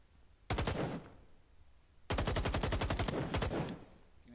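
Gunfire in a team shooting match: a short automatic burst, a pause, then a longer rapid string of closely spaced shots broken by a brief gap and one final burst, close and loud.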